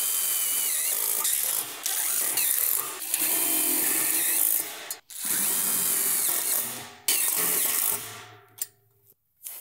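A power drill drives screws into an aluminum balcony railing, loud close whirring bursts with ratcheting clutch clicks, stopping and starting several times with brief pauses, no speech.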